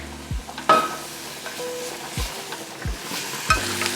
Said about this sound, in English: So now we have some good spinach cooking here.